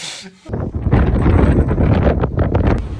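Strong wind buffets the microphone outdoors during a cross-country tractor drive in a loud, steady roar with gusty rustling throughout, after a brief quieter moment at the start.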